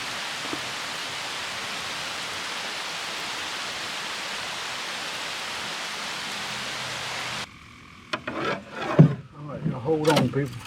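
Steady hiss of pouring rain on a bass fishing outing, loud and even for about seven seconds, then cutting out as brief talk and handling noises follow.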